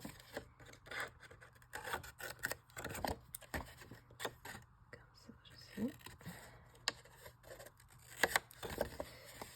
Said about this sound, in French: Je viens découper cette partie-là.